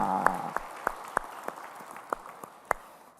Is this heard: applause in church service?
yes